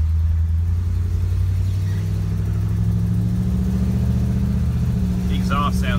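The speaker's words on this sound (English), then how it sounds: "The exhaust sounds great." A 1962 Ford Galaxie's engine and exhaust rumble deep and steady while driving, a loud, close low drone with a slight rise in pitch, and a brief voice near the end.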